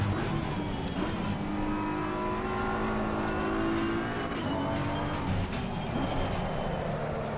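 A BMW M4 GT3 race car in Assetto Corsa Competizione holds a steady, loud engine drone under full throttle, its pitch rising gradually as it accelerates, with no talk over it.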